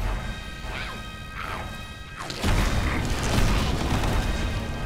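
Muffled crashing booms from exploding goblins in Magicka, several impacts rolling together, with a heavier burst of noise in the second half.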